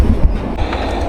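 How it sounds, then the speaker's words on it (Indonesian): A loud rumbling clatter of a nearby train rolls past, dense and continuous with faint rhythmic knocks, near an abandoned village at Alas Gumitir in Indonesia. "Itu ada suara kereta itu kelihatan ya dari sini."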